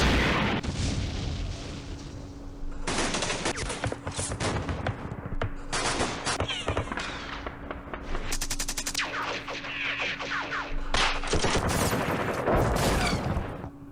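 Dense gunfire and heavy booms from a Middle East wargame battle, with bursts of machine-gun fire and anti-tank and artillery blasts that go on without a break. The loud, rapid fire fills the whole stretch.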